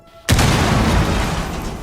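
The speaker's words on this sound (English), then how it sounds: "the explosion triggered by a frag grenade" A frag grenade explodes in Rainbow Six Siege with a sudden loud boom after a brief quiet lead-in, followed by a long, dense rumbling decay.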